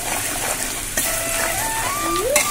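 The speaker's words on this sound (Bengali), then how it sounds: "পেঁয়াজটা ভালো করে ভাজা হয়ে যাক" Chopped onions sizzle in a pan over the heat, a soft, continuous crackling hiss with a faint whistling tone rising briefly near the end.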